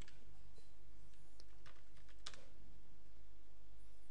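Fingers type on a computer keyboard in a short, uneven cluster of quiet clicks over a steady low electrical hum, the keystrokes fading out midway and leaving only the hum.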